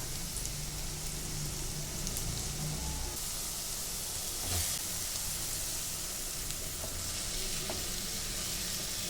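Onion and spices frying in a pan for Telugu bottle gourd curry with milk, a steady soft sizzle with occasional stirring scrapes, continuous and fairly close.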